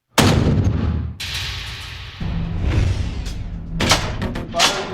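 Heavy gunfire from a Browning .50 caliber machine gun at an indoor range, booming shots and short bursts that ring and echo through the space, loud and close.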